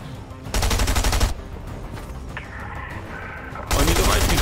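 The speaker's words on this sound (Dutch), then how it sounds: "Ik hoor die bot ook nog schieten." Gunfire in the video game Fortnite: bursts of rapid automatic shots, loud and close, in two dense volleys separated by a quieter stretch with softer distant shots and game effects.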